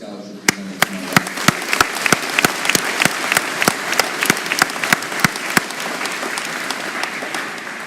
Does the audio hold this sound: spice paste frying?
no